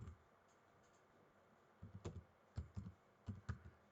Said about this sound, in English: I am typing the code